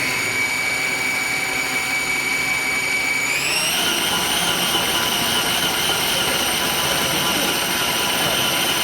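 Electric conversion motorcycle motor driven at full throttle, with a steady loud high-pitched whine that rises in pitch partway through and holds, over constant broadband hum.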